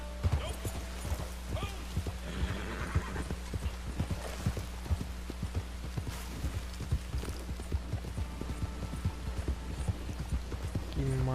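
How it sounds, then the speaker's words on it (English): A horse gallops in Red Dead Redemption 2 online, with rapid, continuous hoof clip-clops over a steady game soundscape and a brief whinny, while voices murmur faintly in the background. "Cavalo louco."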